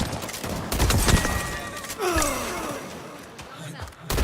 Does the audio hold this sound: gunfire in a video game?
yes